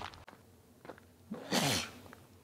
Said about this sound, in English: Oh, wait, big sneeze.